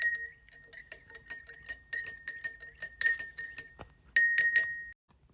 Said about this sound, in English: now we can give that a stir with our tiny spoon